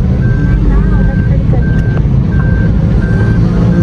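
A car backing up into a parking spot gives off a regular series of steady electronic reversing beeps over loud engine and road rumble, with voices talking nearby.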